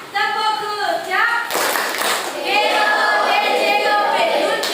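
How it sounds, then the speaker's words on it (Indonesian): An Indonesian primary-school class gives a rhythmic 'good job' cheer clap in the classroom. Bursts of clapping come between children's chanted, sing-song voices, all close and loud. "Untuk memberikan semangat pada kelompok 2, kita berikan tepuk good job ya."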